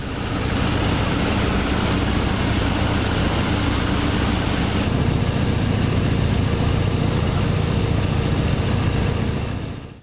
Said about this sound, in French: L'avion décolle, tous les vomissements du moteur nous reviennent dans les oreilles.